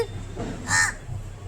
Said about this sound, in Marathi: काव काव काव काव कशाला करत होता?